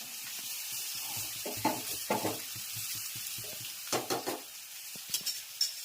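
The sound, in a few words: sizzling tempering of patra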